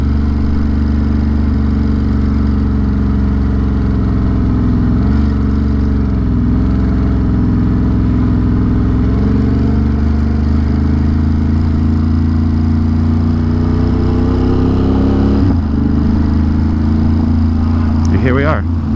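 A motorcycle rides through the Holland Tunnel, its engine a steady, loud drone reverberating off the tunnel walls, with a brief pitch shift near the end.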